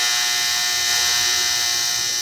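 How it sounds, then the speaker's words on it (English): A clothes dryer runs loudly in a small, echoing room, giving a steady, close, unbroken whirring hum with a bright hiss that holds level for the whole stretch. "Good Lord, your dryer is loud."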